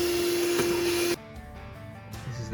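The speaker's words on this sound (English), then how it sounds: "We're gonna vacuum this out." A vacuum cleaner runs loud and steady while cleaning out a Duramax truck part in a home shop, with a high whine that cuts off partway and drops to a lower hum.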